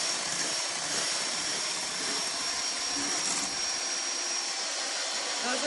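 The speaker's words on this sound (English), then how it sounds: "6 egg whites, and we want to beat these until they're stiff" Electric beaters whipping six room-temperature egg whites toward stiff peaks for macaroons, a loud, steady motor whir with a bright high whine running unbroken throughout.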